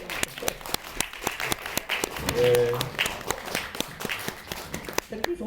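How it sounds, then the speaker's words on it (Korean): Clapping from a film audience at a talk with directors and actors comes as steady, fairly close claps at a brisk even rhythm, with a short spoken word from a host and a brief tonal sound in the middle. "박수 계속 치시고 있어요."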